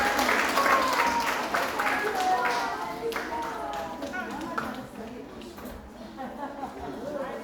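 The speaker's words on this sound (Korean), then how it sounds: "그래서 다시 한번 박수하겠습니다." A church congregation claps during a Sunday worship service. The applause is strongest at the start and gradually thins and fades, while voices carry on over and after it.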